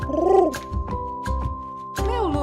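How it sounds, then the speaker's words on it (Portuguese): Soft, throaty pigeon coos arrive in brief rolling phrases, one at the start and another near the end, set against a steady background melody in a children's song about animal sounds. "Este é o som do pombo, que vai arrulhar de novo."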